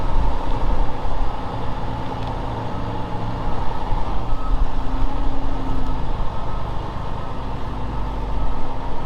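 A 2016 Freightliner Cascadia truck reverses straight back into a loading dock, its engine droning loud and steady from inside the cab, with a faint reversing beep, and no talk.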